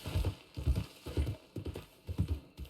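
Horse hooves clip-clopping in a Red Dead Redemption 2 roleplay game, a steady loping rhythm of paired low thuds repeating several times, close and fairly loud with no talk over them.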